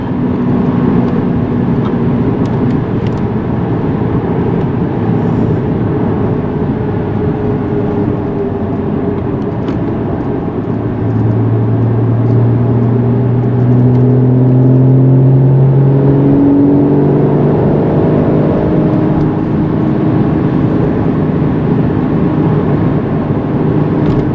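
A Porsche sports car engine in sport mode hums steadily from inside the cabin with road and wind noise, the engine note rising briefly as it accelerates.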